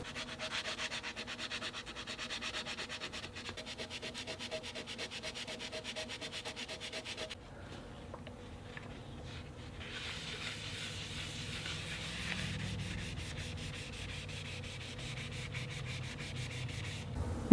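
Steady close-up sanding of an oil-finished guitar body during a bridge swap, a continuous dry rubbing scrape that pauses briefly partway, then resumes and runs on with no talk over it.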